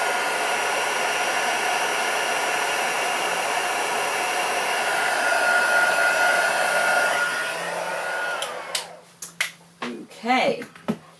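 A heat tool blows hot air steadily to melt embossing powder on a paper butterfly, a loud continuous whooshing drone that then switches off, followed by a few sharp clicks and brief handling noises.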